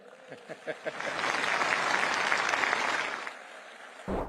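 Crowd applause in a large hall at a textile trade expo, beginning with a few scattered claps that swell into sustained, dense clapping for about two seconds before fading out.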